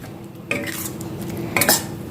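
Eggs being stirred into a pepper fry masala in a pan, a spoon scraping and clinking against the metal in a few quick bursts over a steady low kitchen hum, with no talking.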